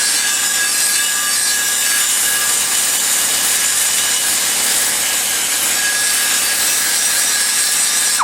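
A cutter machining a valve seat in an aluminum cylinder head, producing a continuous, loud, steady scraping hiss with a thin high whine throughout and no break in rhythm.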